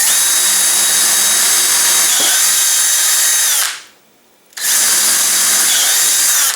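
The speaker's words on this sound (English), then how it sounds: "I'll drill out all the pilot holes to full size." A power drill whines loudly and steadily while drilling pilot holes out to 7/32 inch in a model rocket, stops briefly for a pause of near silence, then starts again at full speed.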